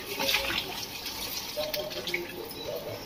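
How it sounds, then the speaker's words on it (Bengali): Water poured into a cooking pot of frying rice on a home stove, a steady splashing stream at moderate volume with no voices. "এটার মধ্যে জল দিয়ে দেবো।"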